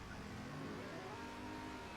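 A Porsche Panamera in the driving game Car Driving Ultimate revs and accelerates, a continuous mid-pitched engine note that rises and holds steadily with no talking over it.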